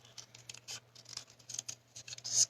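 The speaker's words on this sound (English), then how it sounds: "I just get my scissors and I just cut around" Scissors snip around the edge of a card for a tent-fold easel card, with a rapid run of short, crisp cuts close by, quiet and unaccompanied by talk.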